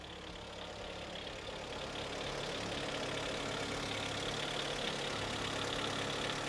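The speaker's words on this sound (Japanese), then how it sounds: "でも調子が良さそうですねエンジンもね" A Honda Integra Type R's engine idles steadily and fairly quietly, a continuous even rumble with no voices over it.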